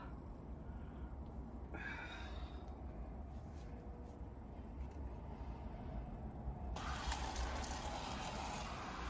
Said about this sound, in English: this will go to like a spray, more like a shower spray